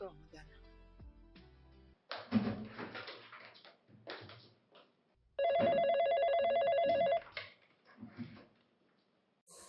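A telephone rings in an office, a steady electronic ring lasting about two seconds after brief talk and movement, then quiet.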